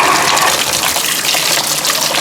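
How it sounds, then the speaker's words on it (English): Water gushes steadily and loudly into an African bullfrog's tank to warm it, a continuous close pouring rush with no pauses or voices. "This water's getting a little bit cool, so I'm going to warm her water up a little bit."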